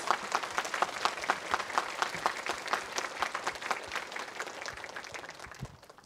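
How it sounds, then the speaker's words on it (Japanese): Warm, continuous clapping from a seated audience welcoming film director Ryusuke Hamaguchi at a screening event, fairly soft and even, tapering off toward the end. "So please greet the director with a big applause, please."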